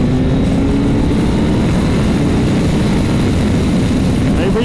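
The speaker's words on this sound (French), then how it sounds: "Alors on va essayer d'accélérer." A 2023 Suzuki GSX-S 1000 GX motorcycle on the road, heard as a loud, steady, close engine drone mixed with wind rush, with no clear rise in pitch.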